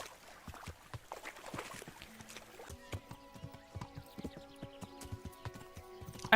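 Horse hooves clip-clop at a steady walking pace in the medieval game Kingdom Come: Deliverance, a close, continuous rhythmic patter over soft ambient sound.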